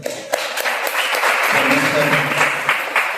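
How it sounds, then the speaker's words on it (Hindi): A church congregation at a Sunday service breaks into loud, sustained applause that fills the room for a few seconds, with voices murmuring and talking through the clapping. "एक जोरदार ताली बजा सकते हैं"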